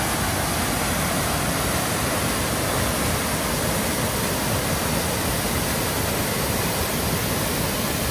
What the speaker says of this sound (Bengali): প্রচণ্ড পরিমাণ শব্দ, আর এই ঝর্ণাটা যে কত বড়, এখানে না আসতে বোঝা যাবে না।